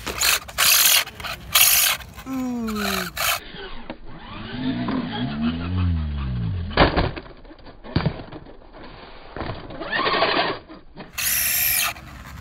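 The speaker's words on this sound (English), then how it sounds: "that might be our slipper clutch, or I might have messed up the spur gear" A Traxxas Slash 2WD RC car running on 2S at a skatepark, its slipper clutch or damaged spur gear grinding: loud whining motor sweeps and ratcheting gear rattles come in bursts, close to the mic, with brief voices mixed in.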